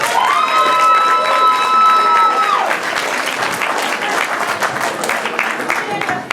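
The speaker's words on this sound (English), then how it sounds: "Everybody give a round of applause for Mr. Clark over here." A crowd applauds and cheers for a wrestler at an indie wrestling show. Dense clapping runs throughout, joined early on by a steady tonal sound that stops partway through.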